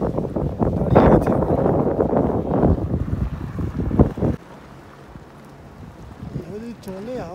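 Strong dusty wind gusting by a river, loud broadband roaring and buffeting the microphone for about four seconds, then dropping to a low rumble with faint wavering tones near the end.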